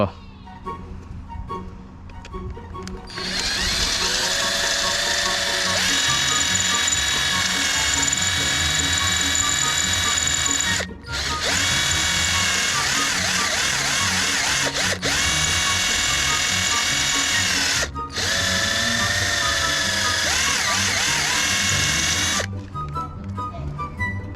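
A handheld electric drill bores out rivets on a motorcycle exhaust, running loud and steady in long close bursts with two brief stops between them.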